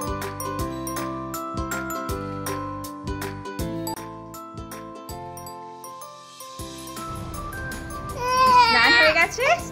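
An infant cries near the end after bath time, a rising wail over steady tinkling background music, which dominates most of the stretch before the crying begins.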